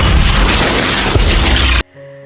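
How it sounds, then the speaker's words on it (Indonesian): A loud, booming explosion roars and rumbles for nearly two seconds, then cuts off abruptly to quiet. "si agen terlambat mencegah ledakan itu"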